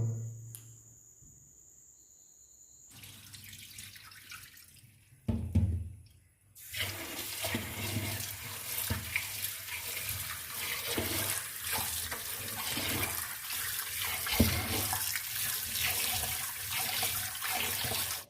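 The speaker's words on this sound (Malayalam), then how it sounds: "വെള്ളത്തിലിട്ട പരിപ്പ് ഏകദേശം മൂന്ന് മണിക്കൂർ കഴിഞ്ഞു ഇനി നല്ല രീതിയിൽ കഴുകിയെടുക്കുക" Soaked lentils being washed under a running tap: a quiet start, then a rush of water from about five seconds that becomes a loud, continuous splashing flow close by, with faint insect chirping in the background and no talk.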